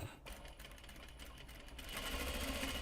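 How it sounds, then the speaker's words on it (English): A sewing machine stitches a knot bag in a quick mechanical run, a rapid close chatter of the needle that picks up and grows busier and louder near the end. "Through the machine it goes, where it'll stop when I'm done sewing."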